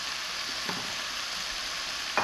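Chicken and spinach cooking in a pan for a creamy Tuscan chicken, a soft, even hiss of gentle sizzling with a couple of brief utensil scrapes, close and fairly quiet, no voices.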